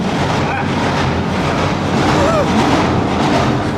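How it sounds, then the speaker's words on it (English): A loud train rumbles past close by a narrowboat on a UK canal, a continuous heavy roar with faint rail squeal, voices briefly audible underneath. "Oh, there's a train."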